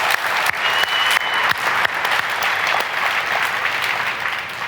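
Loud sustained applause from a large conference audience, dense continuous clapping that holds steady for the whole stretch.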